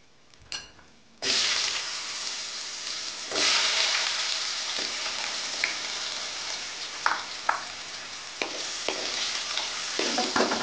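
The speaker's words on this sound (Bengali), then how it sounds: "এই আলুগুলো আমি ভেজে নেব" Small cut potato pieces frying in oil in a pan, a steady close sizzle that starts abruptly and continues with occasional clinks and stirring sounds, no talking.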